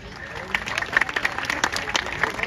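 An audience at a dog show in Bikaner applauds the first entry, a black-and-tan German Shepherd, with scattered, uneven claps rising under ongoing talk over a loudspeaker.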